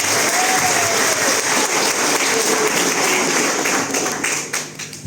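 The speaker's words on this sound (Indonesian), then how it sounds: "kita beri aplaus untuk beliau" Sustained applause from an audience at a uniform handover ceremony, dense steady clapping filling the room for about five seconds and thinning slightly near the end.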